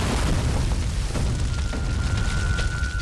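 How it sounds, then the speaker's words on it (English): A deep, rumbling video game explosion from a cutscene in Road to Fiddler's Green, set in a hospital, a sustained loud boom with a thin ringing tone emerging near the end. "Explosions rocked the hospital."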